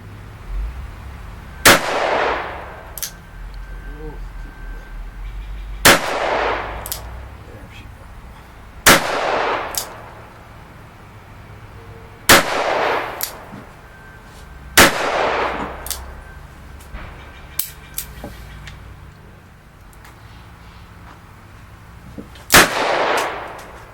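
Six spaced single shots from an S&W Pro Series Model 60 revolver fired at an indoor range target about 40 feet away, each a sharp loud crack with a ringing decay, evenly paced several seconds apart.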